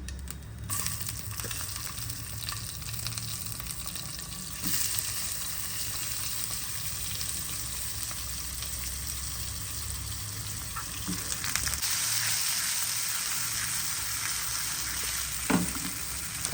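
Tomatoes drop into hot oil with cumin and asafoetida over a low flame, producing a loud, steady close-up sizzle with a few stirring scrapes and no talking.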